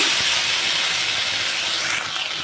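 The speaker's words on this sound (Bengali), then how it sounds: "আমি রসুন আর লঙ্কাটা দিয়ে ভেন্ডিটাকে ভালোভাবে মশলাটা দিয়ে কষিয়ে নিচ্ছি" Okra frying with garlic and chili paste in a hot pan gives off a loud, steady sizzle and hiss that holds throughout, easing slightly toward the end.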